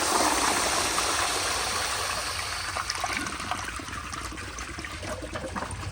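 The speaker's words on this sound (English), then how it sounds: "I'll flush it twice." Water from a 1965 Kohler Barlow toilet on a flushometer gushes loudly, then eases into a gurgling trickle and dribble as the flush drains, heard close up with no talking.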